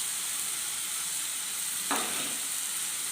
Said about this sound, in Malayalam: നമുക്കിത് നന്നായിട്ടൊന്ന് വഴറ്റാം. നമ്മൾ തക്കാളിയും കൂടി ഇതിലേക്ക് ആഡ് ചെയ്യുന്നുണ്ട്. കറിവേപ്പിലയും കൂടി ഇട്ട് കൊടുക്കാം.